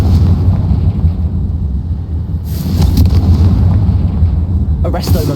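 Confringo blasting spell from Hogwarts Legacy, heard as a steady low rumble broken by sharp bursts and crackling impacts, with a brief voice in the background.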